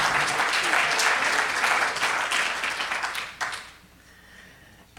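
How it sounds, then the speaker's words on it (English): An audience applauds a speaker, the editor in chief of Reader's Digest Magazine, with loud sustained clapping from a crowd that fades out over the last seconds to near quiet. "So please give Liz a well-rounded applause."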